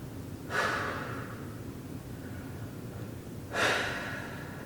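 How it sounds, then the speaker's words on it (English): Two slow, deep breaths during a yoga pose, each a long airy exhale a few seconds apart, close and clear over a quiet room with no talking. "Taking some deep breaths here."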